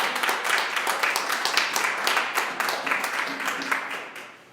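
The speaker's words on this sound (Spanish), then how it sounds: "Denle un aplauso fuerte al Señor." A Spanish-speaking church congregation claps in a steady, moderately loud burst of applause that fades slightly toward the end.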